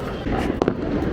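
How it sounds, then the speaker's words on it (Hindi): An anar fountain firework is lit at a Diwali celebration, giving a continuous loud, close rushing hiss with a brief sharp crackle partway through and voices faintly in the background. "अनार चलाओ"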